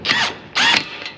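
A wrench snugs a threaded fitting up close, making two short metallic ratcheting, grinding bursts with a brief pause between them.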